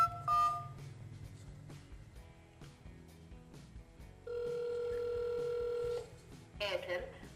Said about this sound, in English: let me make a phone call and put the tablet on speaker so that you can listen to the call